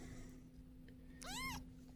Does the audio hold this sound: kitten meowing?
yes